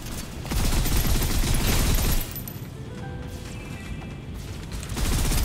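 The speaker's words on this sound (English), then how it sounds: "Suppressive fire." Suppressive gunfire in the Snowbreak shooter game: rapid, dense bursts of shots at the start, a quieter stretch with mechanical clicks and tones, then another burst of firing at the end.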